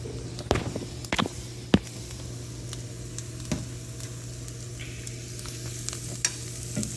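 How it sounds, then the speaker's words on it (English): Spam and chopped onion sautéing together in a pan, with a steady low sizzle and occasional sharp clacks and scrapes of a utensil against the pan. "And we're just gonna saute this together."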